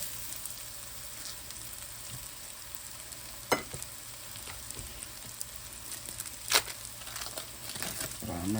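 Onions and mushrooms sauté on a griddle for a mushroom smashed cheeseburger, a quiet continuous sizzle broken by two sharper scraping clatters and a rustle near the end.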